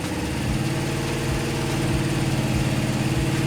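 A 1974 Honda CB750 motorcycle engine idles steadily at close range after carburetor tuning, a loud, even chugging rumble with a regular low pulse and no voices.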